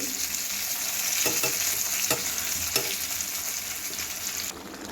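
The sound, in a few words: crab frying in a pan on the stove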